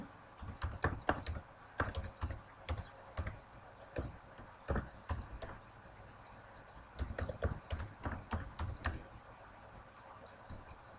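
A login and email address are typed on a computer keyboard in quiet bursts of quick, light key clicks with short pauses between runs, close and alone.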